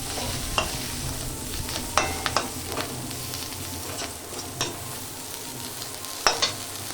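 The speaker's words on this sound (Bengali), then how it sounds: "লঙ্কা পাউডার আধা চামচ দিয়ে দেবো ধনে পাতা দিয়ে এবার নেড়ে নেবো" Bitter gourd bharta stirred in a pan with chilli powder and coriander leaves, a soft steady sizzle under a few sharp spoon scrapes and taps spread across the stretch, no talking.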